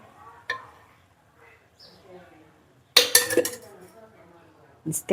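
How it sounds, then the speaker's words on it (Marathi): Home kitchen with a wok (kadhai) being set on the stove, a few quiet clinks and then bursts of loud metallic clattering and clanking of pans and utensils, with talk between the knocks. "करते मी आता कढई ठेवली"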